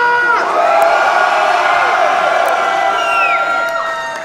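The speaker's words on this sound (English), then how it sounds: "Give yourselves a fucking cheer for that." Concert crowd at a metal gig in Charleroi cheering and whooping loudly, a dense, sustained roar of many voices across the whole stretch, easing slightly at the end.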